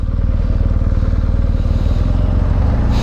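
A 2023 BMW R1250GS motorcycle engine runs close by in a parking lot, a loud, steady low throb with fine rhythmic pulsing and no talk over it.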